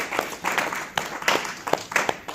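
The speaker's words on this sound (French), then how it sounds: "Nous bénissons le Seigneur en acclamant très fort." Church congregation applauding and cheering, a short burst of irregular clapping with voices mixed in, moderately loud and close.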